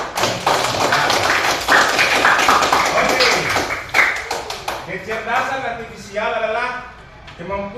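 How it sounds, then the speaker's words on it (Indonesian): Classroom clapping during an Indonesian lesson on artificial intelligence: a dense burst of many hands clapping at once for about four seconds, fading into talk and laughter from the students. "Ya, tepuk tangan dulu."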